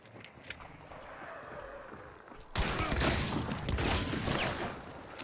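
Gunfire erupts in Hunt: Showdown, a sudden loud burst of overlapping shots that keeps crackling for several seconds after a quieter stretch with scattered faint pops.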